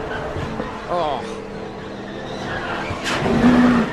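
NASCAR stock cars race at the 2007 Aaron's 499, with engine roar and tire noise rising and falling beneath excited voices talking over the action.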